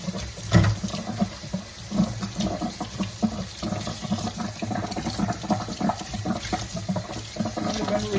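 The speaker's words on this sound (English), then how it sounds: "Let's get these rinsed real quick." Running tap water pours steadily into a kitchen sink while items are rinsed underneath, a continuous close splashing hiss with small knocks and clatters of dishes, and no speech.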